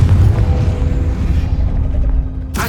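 A Confringo fire spell detonates in a wizarding video game, a loud low boom with a rumbling tail that fades over about two seconds before a sharp burst at the end.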